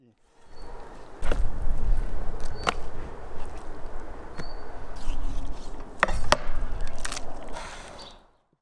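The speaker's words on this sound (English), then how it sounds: "Cut into small pieces." A knife chops deboned meat into small skewer pieces on a board, irregular sharp thuds at close range, scattered over several seconds against a murmur of background noise.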